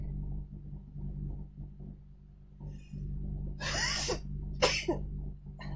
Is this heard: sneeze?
yes